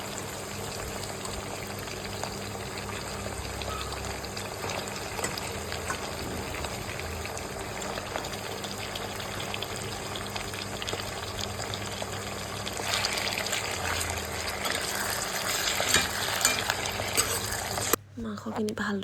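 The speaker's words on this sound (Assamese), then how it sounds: "পিঁয়াজখিনি অকণমান ভালদৰে ভাজি ল'ব" Chopped onions fry in oil in a kadai with a steady, faint sizzle and bubbling that runs throughout, swelling somewhat toward the end before a sudden drop.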